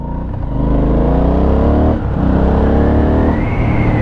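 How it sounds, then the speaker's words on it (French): An Aprilia Shiver 900 motorcycle on its stock exhaust revs steadily up close, its deep exhaust note rising and falling with a brief dip midway, loud and continuous with no talk. "pour une fois qu'il y a un pot d'origine qui sort du son relativement propre"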